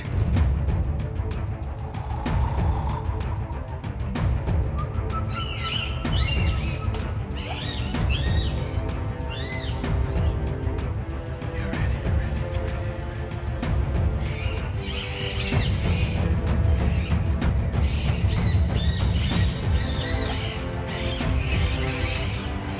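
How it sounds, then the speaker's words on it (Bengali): Shrill parrot calls ring out in bursts over a steady, noisy forest background, some distant and some nearer. "দেখুন টিয়া পাখিগুলো কি সুন্দর ডাকছে"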